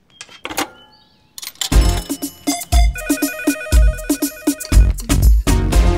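A mobile phone ringtone sounds in a Telugu film scene, with scattered sharp clicks before a loud, repeating electronic melody with punchy beats takes over.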